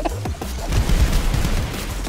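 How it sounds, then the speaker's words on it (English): A spirit bomb explodes in the modded video game ROUNDS as a loud, dense barrage of booming blasts and rapid gunfire-like rumbles that roll on continuously for a couple of seconds. "That's a spirit bomb."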